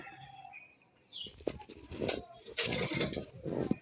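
Close, low cooing from a Madras pigeon, quiet at first, then swelling into a fuller, steady run of coos with light wing rustling toward the end.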